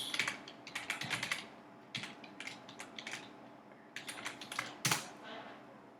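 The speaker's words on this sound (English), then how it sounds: "I'm going to type in the URL." Rapid bursts of keystrokes on a computer keyboard as a web address is entered, close and clicky with brief pauses between clusters, ending in a sharper key strike, no talking.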